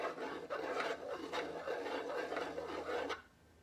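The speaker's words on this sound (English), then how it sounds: "just keep stirring it, stir, stir, stir, and it'll thicken up to be" Cornstarch sidewalk chalk paint being stirred in a container, a steady close scraping and rasping rhythm of repeated strokes that runs for about three seconds before stopping.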